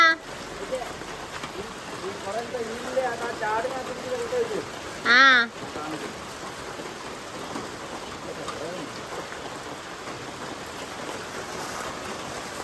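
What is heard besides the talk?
rain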